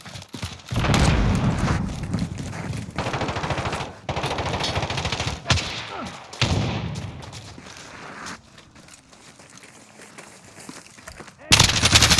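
Machine gun fire in a video game team deathmatch at Al-Raab Airbase, long loud rattling bursts that cut off sharply, a quieter stretch with faint distant activity, then another loud burst at the end.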